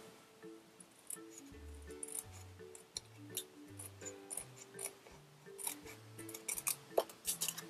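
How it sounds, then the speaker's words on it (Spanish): Scissors snip through washi tape in a run of short, crisp cuts with light clinking, close and fairly quiet, with no voices. "peguéis el trozo que queráis y lo cortéis con unas tijeras"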